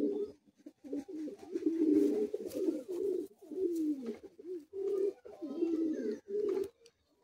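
Pigeons in a loft, including a young female and a newly paired breeding couple, coo close by in repeated soft, throaty phrases broken by brief pauses.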